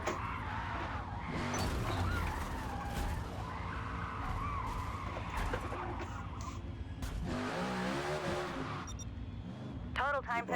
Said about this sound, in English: I was stupid and clipped the outside wall. I have no control of my car.